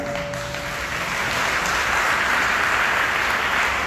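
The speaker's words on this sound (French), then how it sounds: "Encourager le ministère de l'évangélisation avec le plus gros applaudissement du travail que la fait" A church congregation breaks into strong applause for the evangelism ministry, a loud, sustained wash of clapping that swells slightly toward the end.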